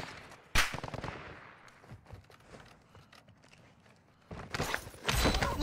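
Gunfire with incendiary rounds in the video game Fortnite, with a sharp shot followed by a quick burst and softer shuffling, then heavier sustained fire near the end, with no talking.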